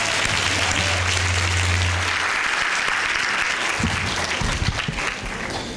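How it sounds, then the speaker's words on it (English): Audience applause at a talk on the presidency in black and white, a dense sustained wash of clapping from a large crowd that holds steady throughout, with a low hum underneath. "Give her a big round of applause for having the strength."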